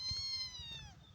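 A single cat meows close by, one clear drawn-out call lasting about a second that fades at the end, with no talking around it.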